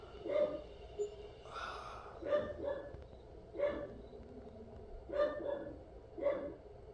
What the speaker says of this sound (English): you're going to get a nice montage of my dogs barking for who knows how long.